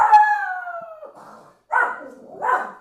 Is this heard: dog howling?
yes